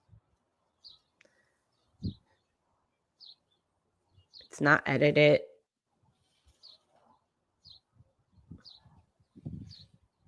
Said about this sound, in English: the sun is shining and the birds are chirping